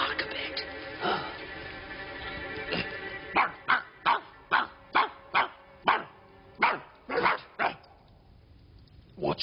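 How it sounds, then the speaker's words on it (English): A dog barks repeatedly, about a dozen sharp evenly spaced woofs that grow steadier toward the end, fairly close over faint background noise, preceded by a softer whimpering stretch. "Come here and bark a bit."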